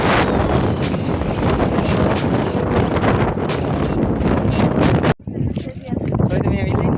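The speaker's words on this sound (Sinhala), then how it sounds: "ඔයාලට පේනවා ඇති හුළඟ කොහොමද කිව්වොත් පේනවා ඇතිනේ." Strong wind gusting hard across the summit of Yapahuwa Rock in Sri Lanka, a loud continuous roar buffeting the microphone that drops out abruptly near the end before rushing back.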